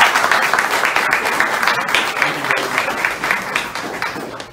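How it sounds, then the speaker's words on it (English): Audience at a town hall meeting in Oakland, San Francisco applauds steadily for a few seconds, a dense wash of many hands clapping that fades slightly toward the end. "So please give him a round of applause."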